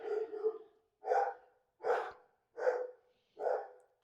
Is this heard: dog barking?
yes